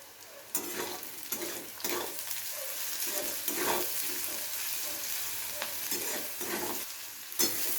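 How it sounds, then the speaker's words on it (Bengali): Sliced onions with a little salt frying in hot oil in a pan, a steady close sizzle broken by repeated scraping stir strokes at an uneven rhythm, no talking. "পেঁয়াজটা হালকা ভাজা ভাজা হয়ে গেছে"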